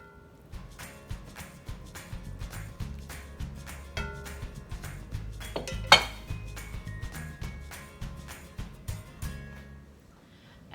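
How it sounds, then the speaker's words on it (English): Beef, vegetables and French fries get tossed in a pan for Peruvian lomo saltado, with steady rhythmic clanks and scrapes of utensils against metal, one sharp louder clang midway, close and clear with no talking. "going to add these French fries and then just toss them all in with this beef and vegetables"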